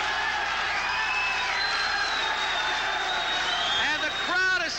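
Boxing crowd at a Freddie Roach vs David Capo fight, a sustained broad cheering roar with scattered whistles and whoops, holding steady for several seconds under a loud announcer's voice.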